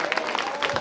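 Audience at a school annual day function applauding, a dense steady clatter of hand claps from a crowd, fairly loud and continuous through the brief moment.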